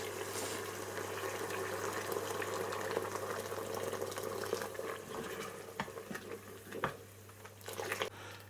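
Hot water from a freshly boiled kettle pours into a pot of kala chana and aloo curry, a soft continuous splashing and bubbling, fairly quiet with a steady low hum beneath and a few clinks near the end.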